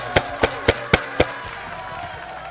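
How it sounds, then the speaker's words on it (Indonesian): Five sharp, evenly spaced claps from a seminar audience clapping in unison, followed by a low murmur of the room as the clapping stops. "Tepuk tangan untuk kita semua."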